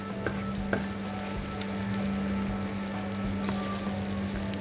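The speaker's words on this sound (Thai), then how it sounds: "ความหอมของกะทิที่เราผัดจนเป็นน้ำมันที่โลแล้วนะคะ" Coconut milk being stir-fried until its oil separates makes a steady, even sizzle with a few sharp stirring clicks near the start.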